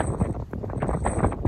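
Outdoor wind buffets the microphone in uneven, rumbling gusts, a short loud burst of blowing air with no voices.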